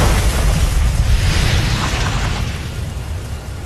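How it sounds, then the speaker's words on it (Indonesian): A huge explosion in an animated Chinese donghua battle scene, a loud sustained roaring blast of dense rumble and hiss that fills the whole stretch and slowly eases off, with no voices. "Tekanan besar pun pelan-pelan menggiring semuanya menuju ledakan yang sangat dahsyat."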